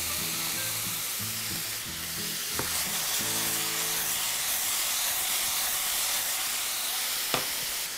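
Parsnips seasoned with pepper and salt sizzle steadily in a hot pan, a continuous close frying hiss with a few soft utensil knocks and clinks along the way, no voices.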